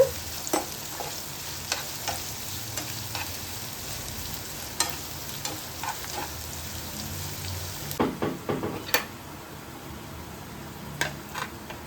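Onions sautéing in a pan for chicken curry, giving a steady crackling sizzle with scattered stirring taps and a burst of sharper spatula scrapes near the end.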